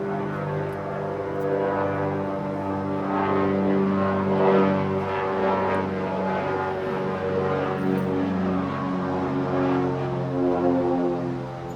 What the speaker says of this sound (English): Now an airplane comes.